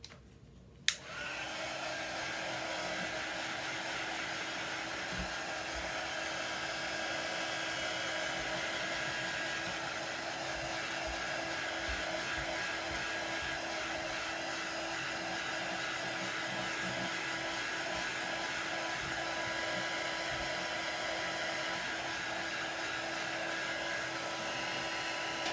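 A handheld heat tool switches on with a click and then blows a steady, loud whirring stream of air to dry chalk paste, running continuously close by with no talking.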